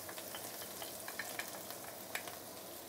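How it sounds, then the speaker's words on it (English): Ginger, garlic, shallot, curry leaves and fresh coriander roots sauté in a generous pool of hot oil in a wok, giving a steady, fairly soft sizzle scattered with small crackling pops. "Saute this for a minute or 2 before we continue."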